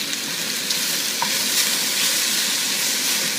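A tablespoon each of minced ginger and minced garlic frying in a hot pan for broccoli beef, giving a steady, close sizzle with faint stirring and the odd small tap, and no talking.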